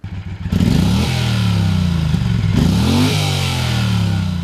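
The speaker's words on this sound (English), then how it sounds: "this gives it that typical stuttering exhaust sound that is such a familiar sound in the cruiser marketplace" Stuttering, uneven exhaust note from a 2010 Triumph Thunderbird cruiser motorcycle with a 270-degree crank, idling then revving, loud and close with a lumpy off-beat rhythm and no talk.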